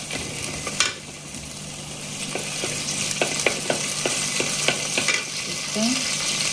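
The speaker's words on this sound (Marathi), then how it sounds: "मिरसांग मातशें तळसून घेयली म्हणटे" Green chilies fry in hot oil in a pan, a steady close sizzle with light crackles and occasional stirring clicks, while someone speaks quietly over it.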